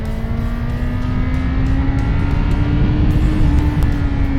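A 2010 Yamaha XJ6 Diversion motorcycle, restricted to 34 hp for the A2 licence, pulls hard with a loud, steady engine drone that climbs slowly in pitch throughout.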